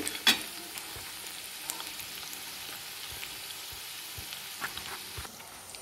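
Cabbage manchurian balls fry in hot oil with a soft, continuous crackle and sizzle, broken by a few light clinks and stirs. It sounds fairly quiet and close, with no talking.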